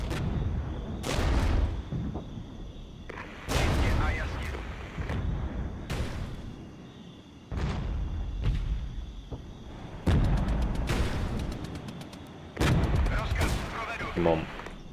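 T-72 tanks firing at mortar positions in the Regiments war game: a string of heavy cannon booms a couple of seconds apart, with scattered gunfire and rumbling between shots.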